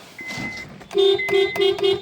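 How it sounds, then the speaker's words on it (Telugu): The horn of a 2009 petrol Honda Jazz honks four times in quick succession, loud and close, each blast short and steady, after a quieter moment of faint background noise. "హార్న్ చాలా బాగా వస్తుంది"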